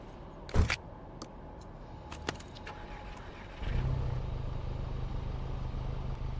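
Audi-like car in the video game Car Mechanic Simulator 2026 starting up, with a few clicks and knocks before the engine catches and settles into a steady low drone for the last few seconds.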